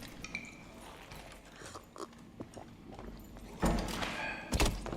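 A wooden door in the game Dark and Darker swings shut with a solid thunk, followed by a second heavy thump, both close and loud against quieter scuffling and clicks, no talking.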